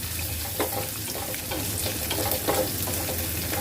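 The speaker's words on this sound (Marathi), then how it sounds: "आता आपण याच्यामध्ये लसूण घालणार आहोत लसूण पूर्ण ऑप्शनल आहे पण खूप छान लागतं आणि हेल्थसाठी पण चांगलं आहे ना त्याच्यामुळे आपण लसूण घालायचं जरा अर्धा मिनिटभर परतून घ्यायचं" Garlic sautéing in oil with crackled mustard seeds for a quick raw mango pickle, a steady close sizzle broken by occasional sharper pops and stirring clicks.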